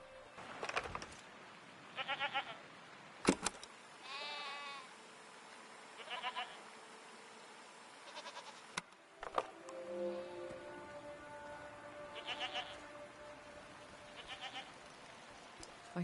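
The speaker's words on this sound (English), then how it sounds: "What are these strange goat-like creatures?" Goat-like creatures in the video game Season: A Letter to the Future give several short, wavering bleats spread across the stretch, moderately near, over a soft rain-like ambient hiss with a few clicks.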